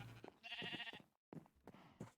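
Sheep in Minecraft Sky Factory bleat in two short, close calls separated by a brief pause, clear and alone.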